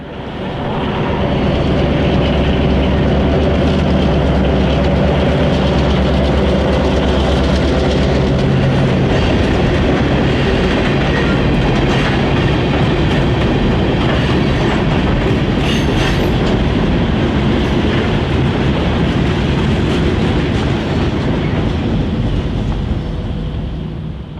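A Florida Central Railroad locomotive, formerly of the Louisville and Indiana Railroad, rolls past with its train, a loud, steady rumble with rhythmic wheel clatter over the rails that stays close throughout.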